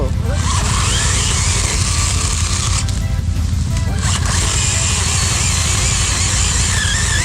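A quad ATV's engine runs loud and close, out on a ride after a storm, with a rough, steady idle broken by a brief dip in the sound partway through.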